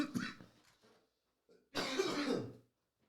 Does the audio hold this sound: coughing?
yes